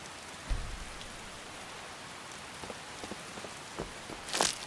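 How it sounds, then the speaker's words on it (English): Continuous rain patters in Skyrim with the Wildlander overhaul, an even hiss broken by a few low thuds and scattered drips, with a brighter splash swell near the end. "Especially now that it's raining like this."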